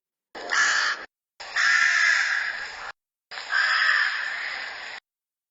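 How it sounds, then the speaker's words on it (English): A big black crow gives three long, harsh caws, each a loud rasping squawk separated by short silences, heard close and alone. "it squawked. MacFuzz was so surprised that he nearly jumped out of his skin. He turned to look at the big black bird."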